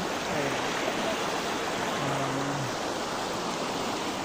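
Strong river current of the Bitbit River in Norzagaray, Bulacan, swollen after a typhoon, rushing as a steady, loud broadband wash of water throughout, with faint low tonal hums briefly audible beneath the flow.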